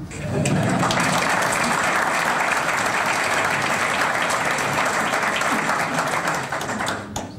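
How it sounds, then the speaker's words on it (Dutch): Sustained applause from the audience at the installation of a new mayor in Boxtel, a loud, dense wash of clapping lasting the whole stretch with a murmur of voices beneath it, fading slightly at the very end. "En dan volgt er altijd een applaus"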